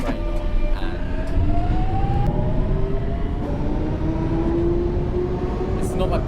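A London Underground Jubilee Line train in the OpenBVE simulator runs with a steady loud rumble and rising motor whine, with a faint warning tone near the end.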